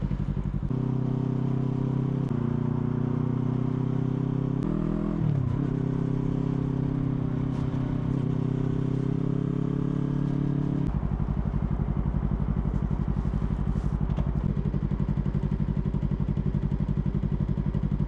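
A motorbike riding at night through the streets of Shibuya, its engine droning loud and close throughout with shifts in pitch as it changes speed, then settling into a steady rough idle-like hum.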